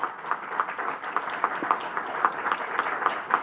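Audience applause at a book launch for Kalam-E-Anwar, steady moderate clapping from a crowd that keeps an even rhythmic pulse throughout.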